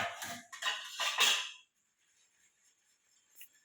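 Dishes and pots clatter in a dense burst of clanks and scrapes for over a second, then fall quiet except for a faint later clink.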